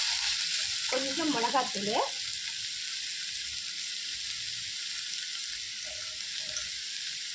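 Peeled fish frying in a pan, a steady loud sizzle throughout with brief stirring scrapes near the start, and a voice speaking briefly over it.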